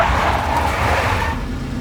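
A big black Mercedes engine roars close by in a car chase in the Max Payne 2 video game, with brief tire skidding in a short, continuous burst of motor noise.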